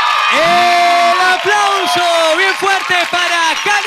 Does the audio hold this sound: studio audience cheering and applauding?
yes